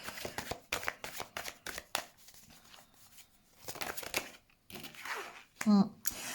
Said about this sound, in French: je vais mettre une carte de plus pour voir